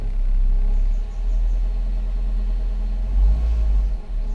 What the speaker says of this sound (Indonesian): Kita gas dikit.